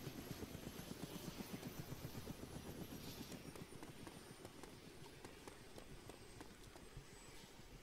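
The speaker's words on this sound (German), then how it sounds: "Wieso nehmen wir denn den Heli nicht mit als Schutz?" A helicopter in the DayZ video game, its rotor giving a steady, fast chopping thump with a broad engine whine that holds loud and close throughout.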